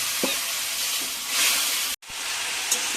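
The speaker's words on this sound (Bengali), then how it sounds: "মশলাগুলো কষে নেব যেন পুড়ে না যায়, তার জন্য সামান্য একটু জল দেবো।" Spices sizzling and frying in a pan after a splash of water, a steady close hiss with faint stirring scrapes and a brief break near the end, no voices.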